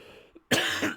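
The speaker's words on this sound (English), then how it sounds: "doing that literally sent me into a coughing fit" A short, sharp coughing burst from a man, one harsh explosive cough after a faint throat sound, close and loud, with no speech.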